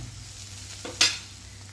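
Onion and chili sautéing in a pan for a spinach rice dish, giving a soft steady sizzle with a brief louder stir and scrape near the end, close and alone.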